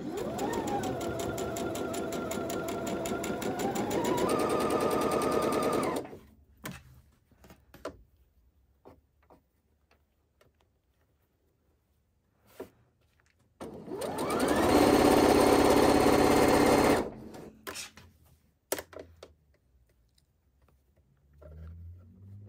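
A sewing machine runs two long stitching bursts along a double-folded hem of a tank top, each several seconds of steady motor whir, separated by a quieter stretch of fabric handling and small clicks; no voices.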